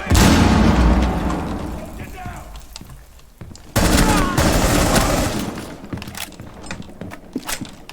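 Gunfire and a grenade blast ring out in a video game, with loud dense bursts of shots at the start, a brief lull, then a sharp boom and more scattered firing, with voices talking over the action.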